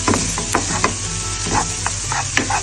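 Onions being stirred in a hot frying pan for a tuna sandwich filling, with a steady sizzle and scraping spoon strokes at an even rhythm, close and alone.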